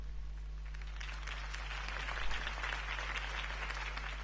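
Crowd applause follows a campaign speech in Batman: The Telltale Series, a dense, steady wash of clapping that swells slightly midway over a low electrical hum.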